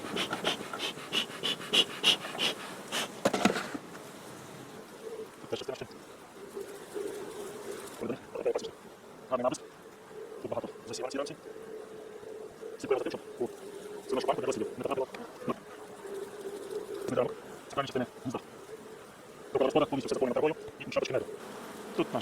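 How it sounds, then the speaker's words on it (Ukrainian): Honey bees buzz steadily around open hive frames while a sample of bees is gathered into a jar, a close droning hum with intermittent bumps and handling noises and a person speaking at times. "Так, ну що, ми набрали третину банки бджілками."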